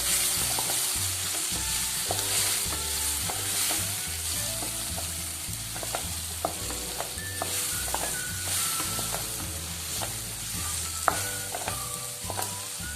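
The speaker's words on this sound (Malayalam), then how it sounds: "നെയ്യിലോട്ടേക്ക് അരിഞ്ഞു വെച്ചിരിക്കുന്ന നേന്ത്രപ്പഴം ചേർക്കാം. ഇതൊന്ന് നല്ലോണം ഒന്ന് മിക്സ് ചെയ്തെടുക്കാം." Chopped nendran plantain fries in ghee for a Kerala banana semiya ada, a steady close sizzle broken by repeated scraping and clinking stirs, with no talk throughout.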